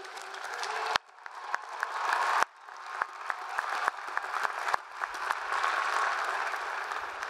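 Graduation audience at the Indiana University Bloomington 2022 undergraduate commencement breaks into loud, sustained applause mixed with cheering, with sharp claps and bursts swelling and dipping briefly before rising again, filling the hall without speech.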